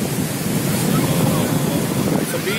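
Ocean surf rolls in at Marina Beach, Chennai, as a steady, loud wash of breaking waves, with gusty wind rumbling across the microphone throughout.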